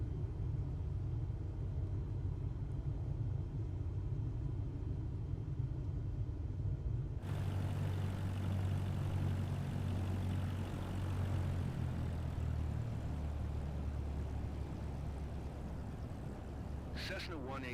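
A Cessna 183 engine drones steadily in Microsoft Flight Simulator 2024, a low rumble that shifts pitch and grows louder midway, running continuously under the game's background sound.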